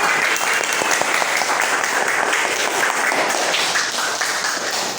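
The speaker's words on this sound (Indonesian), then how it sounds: "Tepuk tangan buat" Applause fills a classroom as students clap together for a classmate's correct answer, a dense, steady wash of many hands at close range with no talk over it.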